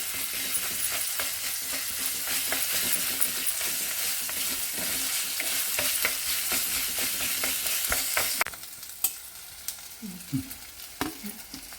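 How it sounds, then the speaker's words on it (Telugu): Ginger-garlic paste fries and sizzles in a pan with a steady, close hiss, stirred throughout, then the sizzle drops away near the end, leaving a few scattered scrapes and clinks. "ఒక స్పూను అల్లం వెల్లిపాయ పేస్ట్ అండి. ఇది పచ్చివాసన పోయేంత సేపు ఫ్రై చేయాలి"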